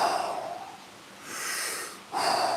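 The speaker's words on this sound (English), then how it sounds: "And they're slower but full breaths." Slow, full breaths taken during a breathing exercise: a long airy inhale, a pause, then a strong drawn breath and a sharp rush of air, close and clear.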